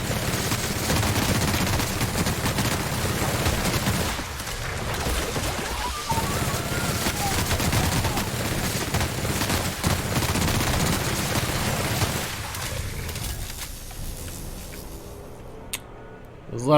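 Dense gunfire rattles almost continuously in The Outer Worlds video game, loud and layered with bursts and explosions, thinning out toward the end.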